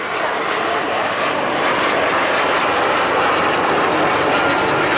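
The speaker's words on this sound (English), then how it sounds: "Here comes the MiG, MiG-15 joining in just behind them." A MiG-15 jet flies over the Bournemouth Air Festival, its engine a steady, loud, continuous roar throughout with no break.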